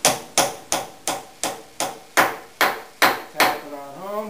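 A glued wooden domino is tapped down into a mortise in fireplace mantel joinery: about ten sharp, evenly spaced knocks, close and distinct, with a faint ringing tail at the end.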